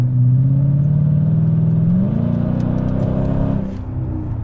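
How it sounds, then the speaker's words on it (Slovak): A Mercedes-Benz CL 500 C215 V8 engine rumbles loudly with a deep, steady growl that rises in pitch partway through as revs climb, then settles back, heard close with no talking. "ten zvuk V8 musí byť. Áno, ten je tu naozaj badateľný,"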